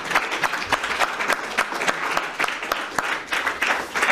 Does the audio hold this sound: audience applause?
yes